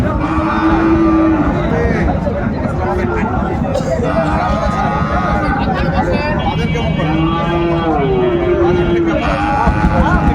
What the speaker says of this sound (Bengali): শাহিওয়ালের ষাঁড় বাচ্চা আমরা দেখছিলাম, বেশ সুন্দর বাচ্চা।